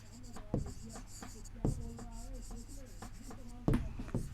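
Pen writing on paper while a maths problem on quadrilateral sides is worked out: soft scratchy strokes across a few seconds with occasional louder taps, faint background hum, voice sounds beneath.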